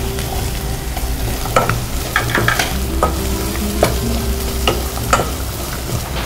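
Sliced onions, garlic, ginger and green chillies with curry leaves and salt sautéing in a pan: a steady, loud sizzle with repeated sharp scrapes of a spoon stirring through it, close up and without voices.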